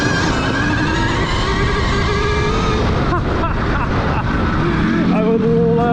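Electric KTM Freeride motorcycle pulling away from a stop on gravel on a bald, soft tire, a rising electric motor whine under heavy wind rush and crunching, loud and close throughout.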